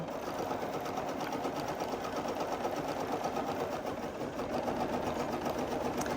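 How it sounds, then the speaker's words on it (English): An embroidery sewing machine stitches a basting box around a pumpkin-design hoop, a steady, dense mechanical whir with a fast even needle rhythm that runs unbroken and fairly loud throughout. "I'm going to go ahead and sew my basting box on"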